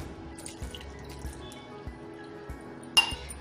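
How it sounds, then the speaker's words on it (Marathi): Water is poured into mashed puran while making katachi amti, giving a quiet trickle with soft drips and a faint clink near the end, heard close up with no talking. "थोडंसं मी पाणी घालते"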